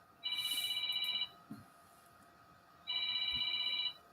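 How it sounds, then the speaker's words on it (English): A phone rings in two clear electronic trill bursts separated by a pause, fairly loud and close in a quiet room, with a faint knock between rings. "Oh, I got a phone call."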